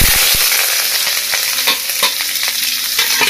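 Onions frying in hot oil in a pan for a tin fish curry, a dense steady sizzle with repeated scraping stir strokes throughout, close and loud with no talking.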